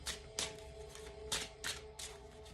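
Quick riffling bursts of shuffled playing cards, several brisk shuffles in a row, close and fairly quiet.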